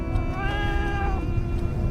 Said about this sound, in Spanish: Lo que lo había tocado no era más que un gato.